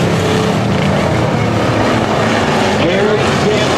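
Race cars roaring around a speedway oval in a steady loud engine drone, a pitch-shifting whine as a car passes, with a commentator's voice running over the noise.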